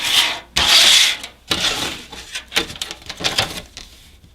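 Material for an ultralight DIY reflector oven is folded and creased by hand, giving close, dry rubbing and crinkling scrapes in uneven bursts, with a loud stretch near the start and shorter rustles afterward.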